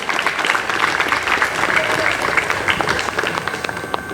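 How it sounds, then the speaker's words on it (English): A college assembly audience claps in sustained, dense applause after a winner is congratulated, loud and continuous for the whole stretch with no talk over it. "Let us congratulate the winner once again by giving a big round of applause."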